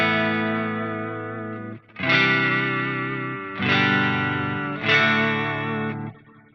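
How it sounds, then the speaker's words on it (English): Electric guitar run through a TC2290 Lush Dotted Eighths delay, strumming four bright, heavily effected chords in a slow sequence, each ringing out with lush repeats, close and clear without talk. "I'm going to add my delay and let's see what comes up. So in my library, I'm going to pick, let's go with this one, the TC2290 Lush Dotted Eighths."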